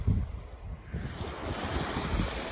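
Sea waves wash along the Latvian shoreline in a continuous low rushing surf, mixed with blustery wind buffeting the microphone, with no voices.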